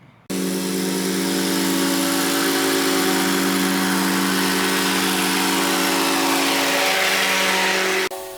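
A Cub Cadet Enduro Series lawn tractor's small engine starts and runs steadily with a constant buzzing drone for several seconds, then cuts off abruptly.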